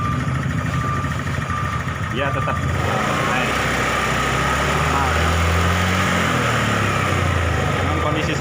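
A Honda Beat FI scooter with a sputtering fault idles loudly up close, then the throttle opens and the engine pitch climbs and holds. Someone talks over it throughout.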